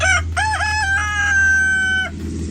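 A rooster crows loudly and close, one long drawn-out call with a few short clucks just before it.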